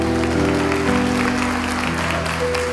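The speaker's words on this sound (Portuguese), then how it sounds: "Você pode aplaudir porque ele venceu." Church congregation applauding during a Portuguese-language sermon, clapping blended with sustained musical tones, a steady mid-level wash with no clear gaps.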